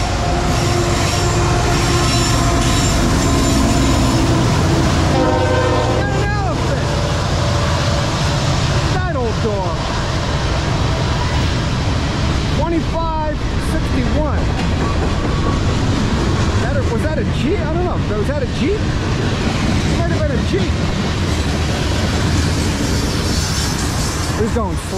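A CSX GP-series locomotive rolls past a stopped Norfolk Southern freight train, with loud steady rail rumble, wheel squeals and clicking over joints, a voice talking over it.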